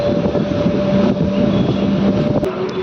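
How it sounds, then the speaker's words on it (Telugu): A DEMU passenger train draws into Kosigi station on the Raichur–Guntakal line, a steady close rumble with a faint tonal whine from the traction. "కోసిక్కి మన ట్రైన్ చేరుకుంది."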